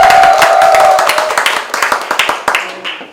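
An audience claps in applause at the opening ceremony of a election campaign office, loud and close, with dense clapping that thins into scattered claps over a few seconds while voices sound over it.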